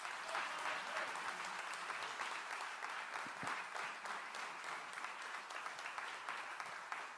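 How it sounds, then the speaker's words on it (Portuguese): Church congregation applauding a preacher at a theological conference, a dense, steady wash of clapping from many hands that carries on without a break for the full stretch. "Receba o servo de Deus com a linda salva de palmas para Jesus."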